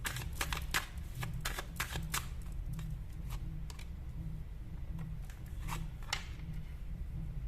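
Tarot cards are shuffled, giving fast crisp clicks and flicks that thin out to scattered snaps over a steady low hum, close by with no voices.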